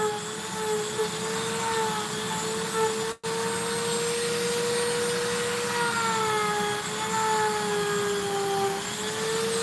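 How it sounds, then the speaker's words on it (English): A Dremel rotary tool rounds the edges of EVA foam, giving a steady close high-pitched whine with a slightly wavering pitch and one brief dropout. "right now I'm using a Dremel to round the edges."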